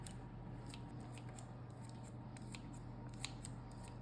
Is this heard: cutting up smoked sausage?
yes